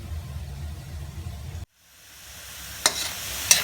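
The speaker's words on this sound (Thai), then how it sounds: "เราจะคั่วคั่วหน่อยนึงให้มันหอมๆ หน่อยนึงครับ" Fish stir-fries with holy basil in a hot pan, giving a steady close sizzle that cuts off abruptly, then a quieter rising hiss with two sharp clacks of a utensil against the pan.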